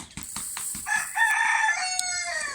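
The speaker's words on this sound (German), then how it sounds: "Oh, der Gockel dreht wieder rum." A rooster crows nearby on a home farm with chicks, a loud single cock-a-doodle-doo with a few preceding clucks, heard alone without talk.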